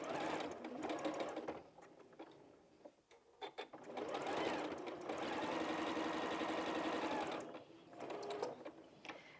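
Home sewing machine stitching log cabin quilt blocks with a quarter-inch presser foot, a loud steady whirring run broken by short pauses, near and without talk.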